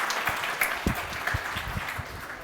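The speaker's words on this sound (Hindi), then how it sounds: "तालियां तो बजा दो" Students in a lecture clap briefly, a scattered run of separate claps from a modest group, fairly close and not especially loud.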